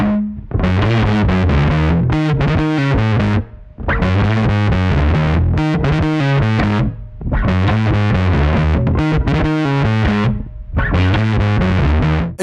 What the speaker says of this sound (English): blending in the fuzz as well to give it a little bit more breadth